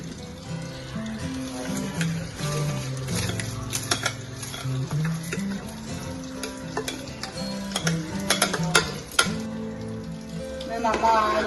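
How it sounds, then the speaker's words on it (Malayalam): Biryani rice, Thanima brand, going into a pot of boiling water, with steady bubbling, scraping and stirring clatter throughout, soft and close, under faint background tones. "വെള്ളം തിളച്ച് നമുക്ക് അതിലേക്ക് അരിയിടാം."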